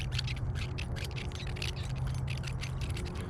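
A 7-inch Hater swimbait gives off a steady, fast ticking and scraping clatter with no rattle inside. The sound carries on alone through the clip at a fairly even level, over a low background hum.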